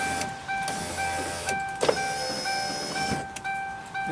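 Power window motor in a Ford Crown Victoria whirring in several short bursts, with clicks and thunks between runs, close and fairly loud with no talk.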